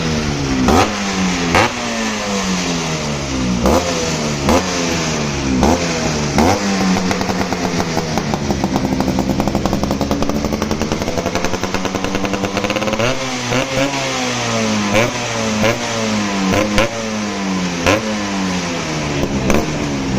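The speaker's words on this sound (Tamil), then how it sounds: "இப்போ நம்ம எக்ஸாஸ்ட் நோட் பார்ப்போம் எப்படி இருக்குன்ட்டு" A Yamaha RX-G motorcycle with an inbuilt exhaust chamber, revved repeatedly so the exhaust note swoops up and falls back in a loud, close two-stroke buzz with a brief steady high hold in the middle.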